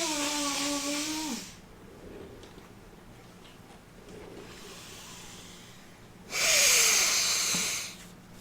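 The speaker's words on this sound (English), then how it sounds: "What a good nose blow." Someone blows their nose twice, each a loud, close, breathy honk lasting over a second with a whistling nasal tone, separated by quieter room noise.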